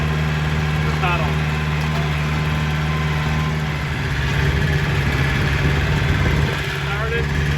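An old, sloppy tractor engine idling steadily with a low, constant rumble, close and loud, on a sand-based athletic field.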